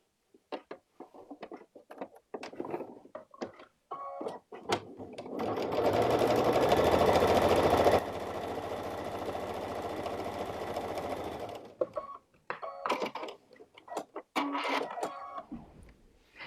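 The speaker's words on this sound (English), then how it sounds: "I want to make sure I get that seam right where we're going to sew" A sewing machine stitching a seam runs in one steady, fast burst of about seven seconds. Scattered close handling taps and fabric rustles come before and after it, and there is no talking.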